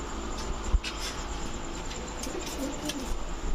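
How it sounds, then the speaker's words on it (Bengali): A big, feather-footed gola pigeon coos softly among other birds, with a few low, murmuring coos near the end over a hissy background, a single sharp knock early on and no voices. "এ হচ্ছে বিগ সাইজের মুজওয়ালা গোল্লা কবুতর"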